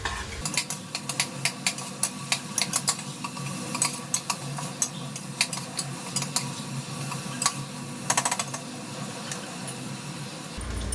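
A spoon stirs tomato, onion and ginger-garlic paste in a pan for keema, giving steady scraping and clinking with light sizzling throughout, close and fairly quiet, with no talking.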